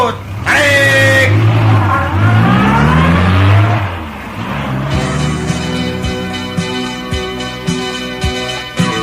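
A car engine revs and pulls away, a loud rising roar with a whining tone that settles into a steady rumble, with occasional clicks and knocks.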